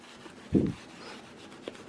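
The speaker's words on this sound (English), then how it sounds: "There's like a rock stuck in the rag." A rag with a rock caught in it scrapes against an exhaust being polished, making one short, gritty rasp up close followed by a faint second scratch.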